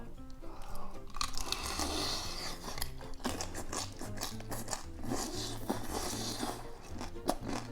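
Raw spot prawn dipped in chojang, eaten shell and all, gives close, wet crunching bites and steady chewing that keep going through the whole stretch, with no talking over it.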